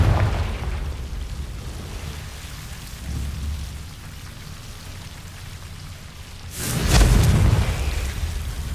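A Confringo spell explosion in Hogwarts Legacy bursts out as a loud rumbling blast late in the clip, preceded by a softer thud and low ambient rumble, with no voices.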